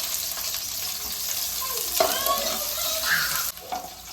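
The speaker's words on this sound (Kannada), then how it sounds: "ಜೀರಿಗೆ ಮತ್ತು ಸಾಸಿವೆ ಎರಡು ಚಟಪಟ ಅಂತಿದೆ" Cumin and mustard seeds crackle in hot oil as onions fry, a steady close sizzle with sharper pops and scraping stir sounds, no voices.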